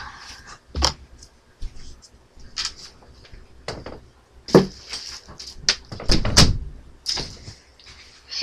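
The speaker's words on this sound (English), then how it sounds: "I'm gonna close my door." A door being closed indoors, heard as a few sharp knocks and a heavier wooden thud near the end, with faint shuffling between them.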